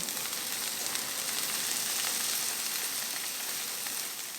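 Roux and cream hitting a hot crawfish pie mixture in the pot, giving a steady, even sizzle throughout with fine crackling, close up and moderately quiet, no talk over it.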